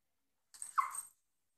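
A dog gives one brief, faint whimper, a short high whine close by against near silence.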